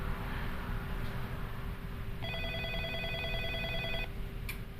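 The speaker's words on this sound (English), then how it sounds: "So right now you see it's ringing twice." A telephone rings after a last-number redial, a single steady electronic ring burst sounding at moderate volume over faint background hum, followed by a brief click.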